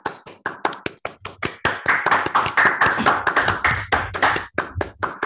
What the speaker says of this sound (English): This kind of applause is always a bit appalling in these Zoom times.